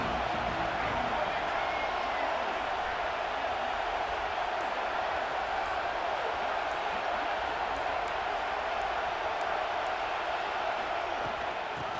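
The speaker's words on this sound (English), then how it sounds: "This crowd ready to make its presence known." A stadium crowd at a Michigan college football game sends up a continuous dense roar that holds steady for the whole stretch.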